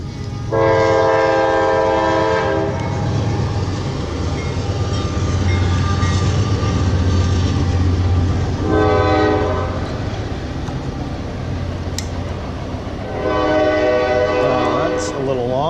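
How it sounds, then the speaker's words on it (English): A train passes while an aircraft engine test runs nearby, its horn sounding in three long loud blasts over a continuous heavy rumble. "And a choo-choo train."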